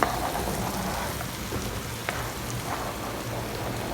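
Cut mushrooms sautéing in a spiced masala in a pan, a steady close hiss and crackle with faint scattered pops throughout.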